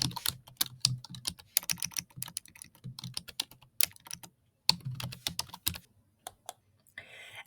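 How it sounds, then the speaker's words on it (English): Computer keyboard typing an email address, a quick run of crisp, close key clicks in bursts with short pauses, quiet and alone. "type in my email address"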